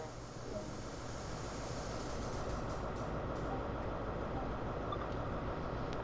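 A train runs steadily near Ealing Broadway in Train Sim World, a constant low rumble and rolling drone with no breaks.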